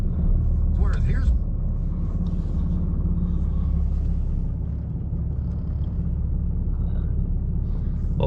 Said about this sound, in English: little cold start